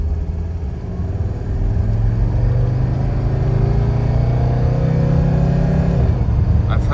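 A 1984 Mercedes 300D turbo diesel car accelerating from inside the cabin, a loud steady engine drone rising in pitch through the gear, then dropping at a shift near the end.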